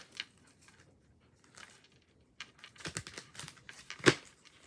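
Sharp crackling bursts of a Kipper card deck being riffled and snapped together, close and fairly quiet, with a few brief pauses between clusters.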